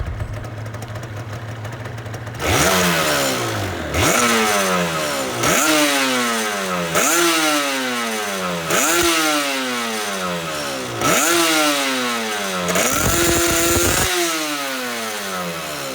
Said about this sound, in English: Let's check out how these standard pipes sound.